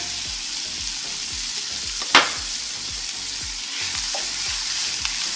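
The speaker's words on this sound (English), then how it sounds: "Make sure you saute that down until the onions are beautifully translucent" Scallions, onions and garlic sauté in a pan with an even, continuous sizzle, broken by one sharp metallic scrape or clank near the middle.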